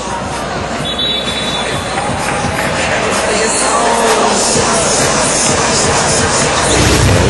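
A basketball crowd screams and roars at Araneta Coliseum during a close game, a dense, loud wall of noise that swells slightly toward the end with voices mixed through it.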